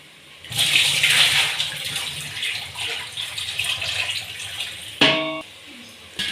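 Hot water gushes steadily onto an upturned plate for several seconds, then stops with a sharp metallic clatter of a plate or vessel.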